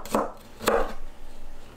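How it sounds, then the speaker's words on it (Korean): Two sharp knife strokes slicing garlic cloves on a cutting board, followed by quieter faint scraping. "마늘은 편으로 썰어서 준비합니다."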